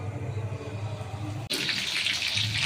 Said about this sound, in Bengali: ম্যারিনেট করা মাছগুলোকে এক একটা আমি ব্যাটারে ডুবিয়ে এখন আমি তেলে ছেড়ে দেব